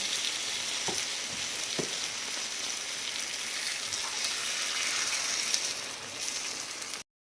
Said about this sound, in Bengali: পেঁয়াজটা অনেকটা ভাজা হয়ে গেছে। এবারে দিয়ে দেবো টমেটো পিউরি।